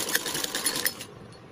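A sewing machine stitching a yoke strip onto the belt section of a blouse, a quick rapid whirring rattle up close that stops abruptly after about a second.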